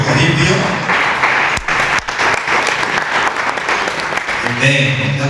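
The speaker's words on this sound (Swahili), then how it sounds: "Tumchapie makofi mazuri sana" A church congregation breaks into warm applause, many hands clapping in a dense, sustained burst close by, with voices talking and calling out over it.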